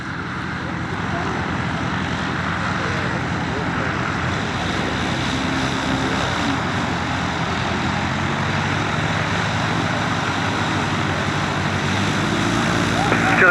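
A light propeller aircraft departs an airshow runway, its engine drone broad and steady throughout, gradually swelling louder toward the end amid outdoor wind noise.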